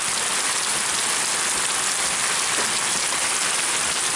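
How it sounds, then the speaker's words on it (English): Steady rain falls through an old growth forest at Cook Forest State Park, a dense, even hiss of drops on leaves and ground, constant and fairly loud with no voices. "Nothing like listening to the rainfall in an old growth forest."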